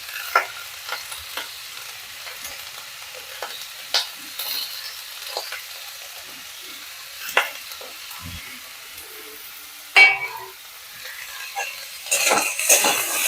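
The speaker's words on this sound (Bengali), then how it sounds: "এগুলো কিছুক্ষণ একটু নাড়াচাড়া করে ভেজে নেব" Carrot and beetroot stir-fry in a pan for vegetable cheese balls, giving a steady sizzle broken by repeated spatula scrapes and a few clinks against the pan, with a louder burst of stirring toward the end.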